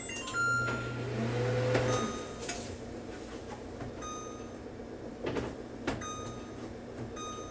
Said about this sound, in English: Got my handy dandy LG oven over here.